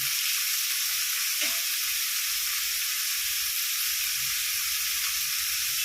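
Curry leaves and tomato sizzle in hot oil in a pan, a steady bright frying hiss with a brief stir, close and continuous without talk.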